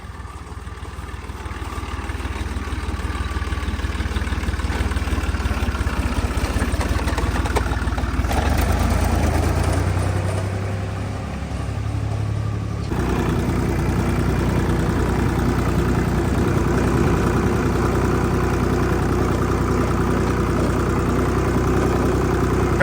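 A tractor engine runs steadily and loudly while hilling potatoes in a field with a homemade implement, a continuous close drone with a brief shift in tone partway through.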